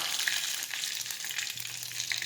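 Mustard seeds and cumin sizzle and crackle steadily in hot oil, a continuous bright hiss with scattered small pops.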